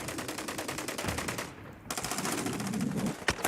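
Rapid automatic gunfire in the war game Foxhole, a steady fast stream of loud close shots that pauses briefly midway and resumes, with no talking over it.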